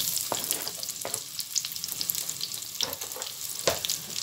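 Onion frying in hot oil, a dense close sizzle with occasional sharp crackles and spatula taps, continuous and fairly loud.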